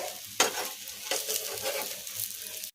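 A bottle gourd besan chila crisps in a hot pan. Soft, close sizzling runs throughout, with a sharp spatula tap near the start and light scraping after it, and no talk.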